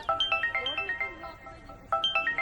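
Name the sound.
mobile phone ringtone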